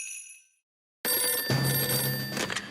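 Bright electronic telephone bell ringing in a cartoon, a short ring that fades into a brief silence, then resumes loudly and insistently, close and alone without talk.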